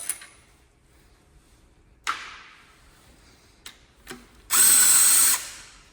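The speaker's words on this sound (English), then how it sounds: "use a power tool to whip these rod bolts out" A power tool removing rod bolts from a BMW S65 M3 engine fires in a short loud whirring burst near the end, preceded by a few sharp metallic clicks and clanks in a quiet space.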